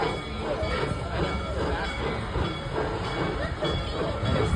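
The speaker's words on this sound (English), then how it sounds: "Steam train? Yep." Serengeti Express steam train #601, running on vegetable oil, passes by the Serengeti Overlook with a continuous broad rumbling hiss and faint rail clatter that stays steady and fairly close throughout.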